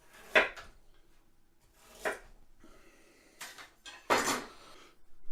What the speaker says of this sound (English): Let me cut this ginger a little bit.